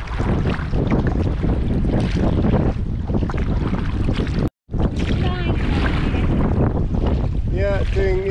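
Steady, loud wind roars past a sea kayak at sea, blowing from behind with small waves, filling the whole stretch with gusty rushing noise and only one brief dropout.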